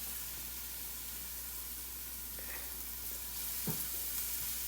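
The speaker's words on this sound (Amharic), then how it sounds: "አሁን ትንሽ እንጠብሰዋለን።" Food frying in oil in a pan for a breakfast dish: a steady, close hiss of sizzling oil with a couple of faint crackles and a soft utensil tap near the end.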